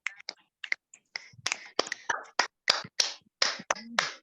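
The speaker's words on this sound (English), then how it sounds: "clap your hands, snap your fingers" Scattered finger snaps and claps from participants in an online meeting, sharp isolated clicks arriving irregularly one after another, close and dry with silence between them.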